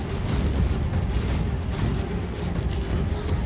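Ship weapons firing in Star Citizen, a dense, loud, continuous barrage of deep booming blasts rumbling together, with a brief higher-pitched whine near the end.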